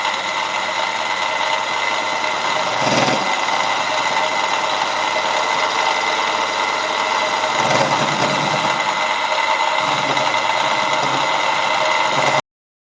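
A milling machine cuts a T150T sump plate with a slot drill, running continuously with a steady mechanical whine and rattle as the cutter works metal, with a couple of brief louder bursts, then it stops.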